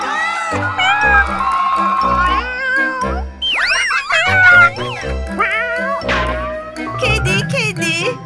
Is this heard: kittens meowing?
yes